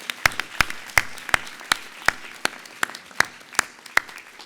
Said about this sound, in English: Ladies and gentlemen, let's give our certificate students a big round of applause.